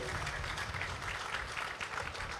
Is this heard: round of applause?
yes